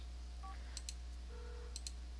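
Phone dialing in The Sims 4, with a couple of short electronic beep tones and soft clicks sounding faintly over a steady low game hum.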